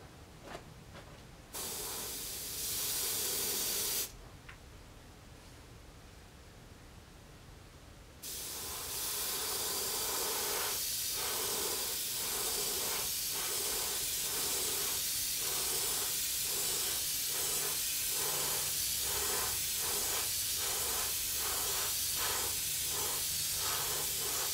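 An airbrush sprays yellow paint onto the top of a lipless crankbait fishing lure. A steady, close hiss runs throughout and breaks into a quick series of short, rhythmic bursts as the paint is laid on in passes.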